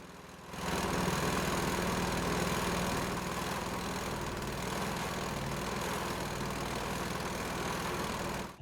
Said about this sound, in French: Là, on est derrière le tracteur.